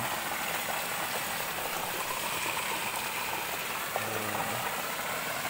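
Steady rushing creek water flows without a break, a dense watery hiss with a low murmur underneath.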